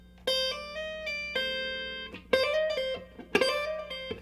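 Clean guitar plays a minor pentatonic blues lick, a quiet run of single notes joined by hammer-ons and pull-offs that comes in short bursts, with a few picked accents.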